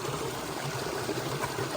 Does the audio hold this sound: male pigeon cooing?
no